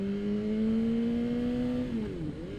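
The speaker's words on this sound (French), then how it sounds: "Le son, la mélodie de l'échappement, elle est vraiment superbe" A 2014 BMW S 1000 R motorcycle's exhaust pulls a steady, rising rev from close by, then the pitch drops and wavers as the throttle eases. The engine note is loud and continuous, with no talk.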